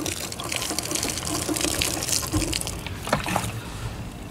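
Water runs steadily from a tap, a continuous splashing gush at close range.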